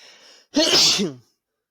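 A single loud, close sneeze: a short breathy intake and then an explosive burst lasting about half a second. It stops abruptly and silence follows.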